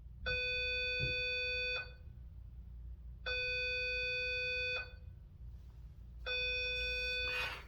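A loud electronic alarm tone sounds in three long, steady bursts of about a second and a half each, separated by short pauses.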